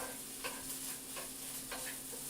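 Shrimp fried rice sizzling and being stirred in a pan, a steady faint hiss with a few soft scraping strokes.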